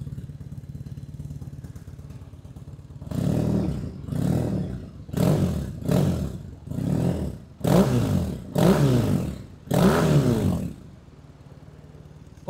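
Triumph Bonneville T100 motorcycle fitted with a DB killer in the exhaust, idling low, then blipped through seven sharp revs in quick succession, each rising and dropping back before settling to idle again, loud and close.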